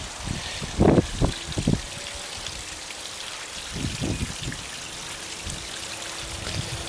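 Small backyard rock waterfall trickles and splashes continuously, with scattered close drips and a few louder splashy bursts over the steady flow.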